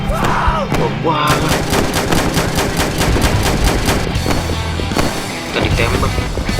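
Rapid gunfire in a Roblox World War 1 battle game, loud bursts of automatic shots in quick succession, with someone talking briefly over the shooting near the start.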